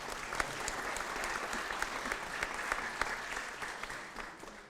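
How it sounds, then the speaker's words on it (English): An audience applauds at a talk, a steady dense wash of clapping hands holding for several seconds with scattered sharper claps standing out, no voices over it. "that deserves an applause"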